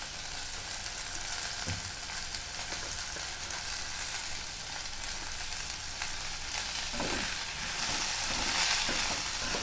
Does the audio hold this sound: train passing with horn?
no